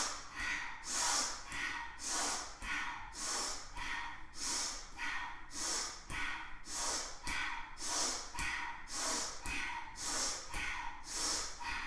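Rhythmic breathing exercise with deep inhales and exhales through the nose, alternating left and right hands in a Kundalini flow, heard as about a dozen even, close breaths of airy rushing sound at a steady pace.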